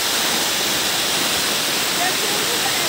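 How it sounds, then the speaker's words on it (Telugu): Powerful water pours down a waterfall at Samudralingapuram in a loud, continuous roar of broadband rushing with no break. "ఇది బాగా వాటర్ పవర్ ఉంది వాటర్ బాగా పోతున్నాయి"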